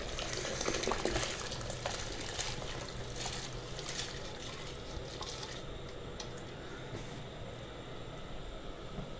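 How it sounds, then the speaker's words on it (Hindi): Water comes to a boil in a pot on the stove, ready for soaked daal, giving a steady low bubbling rumble with a faint hiss, fairly quiet and unbroken, with no talk. "पानी देखें बॉयल हो गया है।"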